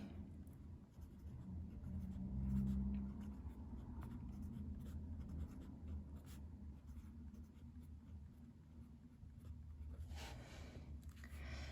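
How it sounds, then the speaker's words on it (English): Pen writing on paper in a journal, a steady soft scratching that runs throughout at close range, with faint low background hum and no talking. "I'm going to write important dates here."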